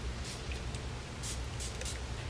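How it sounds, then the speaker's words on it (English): Texturizing hair spray misted evenly through hair in several short, soft bursts of hiss, faint and close against a quiet background. "All you have to do is spray evenly through your hair."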